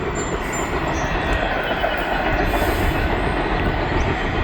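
A CSX freight train races past at speed on Kentucky track, its loud, steady roar of rolling wheels and rattling cars continuing without a break, close by and with no voices.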